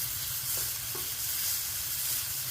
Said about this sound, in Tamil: நல்லெண்ணெய் ஊற்றி நல்லா மாங்காவை வதக்கிடணும்